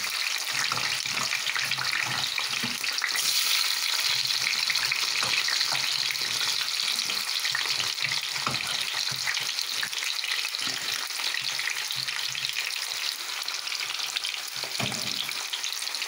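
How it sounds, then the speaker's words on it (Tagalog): Sweet potato pieces frying in hot cooking oil, giving a steady, dense sizzle that runs throughout, with occasional stirring clatter and a brief water-tap splash near the start, no voices. "Pag mainit na yung mantika, saka natin nilagay yung sweet potato natin."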